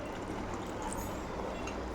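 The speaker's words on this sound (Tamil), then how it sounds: "இன்னும் கொஞ்சம் தண்ணி ஊற்றிக்கலாம்." Water pours into a pan of prawn and potato thokku during cooking, a soft continuous splashing trickle that runs steadily and faintly throughout.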